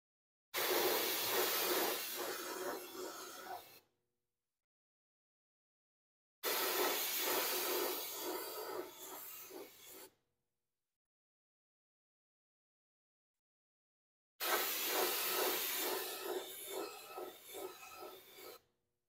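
SuperTech brake parts cleaner sprayed onto budget safety glasses in three separate loud, close hissing bursts of about three to four seconds each, separated by silence.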